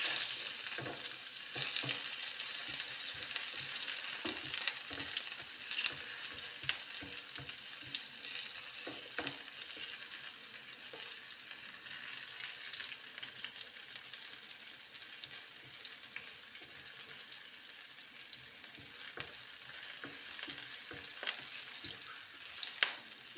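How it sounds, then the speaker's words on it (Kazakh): Onions fry in a little oil in a pan, giving a steady close sizzle with soft crackles and occasional stirring scrapes. No one speaks. "кішкене қуырып алатын боламыз пиязымызды."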